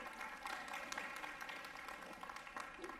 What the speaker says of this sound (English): Give yourself a round of applause for being here this morning.